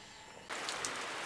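A heavy rain shower in Borneo during the rainy season, starting abruptly partway through as a dense, steady hiss of drops drumming on surfaces close by, loud and continuous with no voices.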